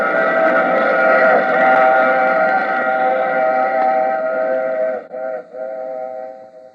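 A long, steady train horn from an old radio drama, with layered harmonic tones, loud and close, wavering briefly near the end before holding on.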